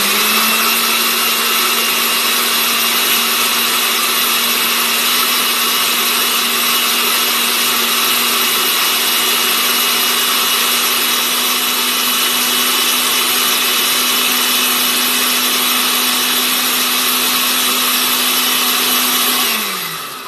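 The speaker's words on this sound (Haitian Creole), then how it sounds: "Après ça, nous allons blender." An electric blender whirs continuously at high speed while blending aloe vera gel with milk, a loud steady motor drone for about twenty seconds that winds down at the very end.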